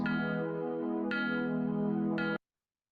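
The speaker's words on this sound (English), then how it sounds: "we used ear cons, which are like icons, audio icons for edges" Synthetic audio-icon earcon signalling contact with an edge: a sustained harmonic electronic tone with three quick re-attacks, steady and close, cutting off abruptly, with no talk.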